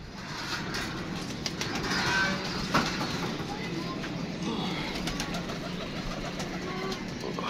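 Pigeons coo softly in a steady background murmur, with a faint flutter of wings and a voice talking over them.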